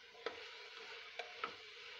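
Flat beans and potatoes sizzle steadily while being stir-fried in a pan or cooker, a continuous hiss broken by a few light stirring ticks.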